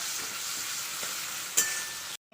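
Onions with whole garam masala frying in a pan, a dense, steady sizzle close up, broken by a single clink of the stirring spoon before the sound cuts off abruptly.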